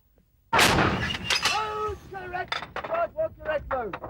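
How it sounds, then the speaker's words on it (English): A British Royal Artillery gun fires in Belize in 1994: a single sudden, loud blast, then a voice speaking over the fading noise. "Number 6, fire!"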